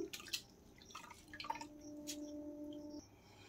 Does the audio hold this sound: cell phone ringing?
no